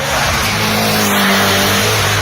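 A Mercedes S63 drives past at the Goodwood Festival of Speed, its engine droning loudly and steadily with a rising tone throughout, close by and without talk.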